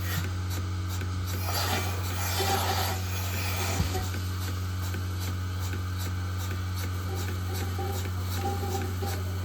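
A milking machine running on a cow's udder at an organic dairy farm, giving a steady low mechanical hum with soft rubbing and rhythmic pulsing clicks throughout, close and continuous, with no talking.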